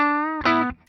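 A 2008 Gibson Memphis ES-355 electric guitar with its Varitone choke on position 1 rings a sustained note, then a short, overdriven strummed chord, and both quickly die away.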